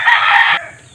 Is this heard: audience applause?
no